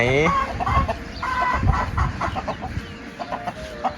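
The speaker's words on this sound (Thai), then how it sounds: "ตามไก่แล้ว ไปไหนเอาแอนไปไหน" Chickens cluck and a rooster calls repeatedly up close outdoors, with short harmonic squawks and clucks scattered over a busy background.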